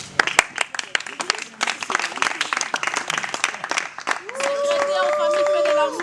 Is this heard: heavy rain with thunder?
no